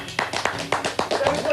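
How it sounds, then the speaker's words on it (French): Audience applause greeting Franck on a French TV stage, a brief run of close, rhythmic hand claps with voices faintly behind. "je vous demande d'applaudir mon ami Franck"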